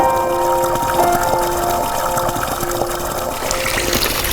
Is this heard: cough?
no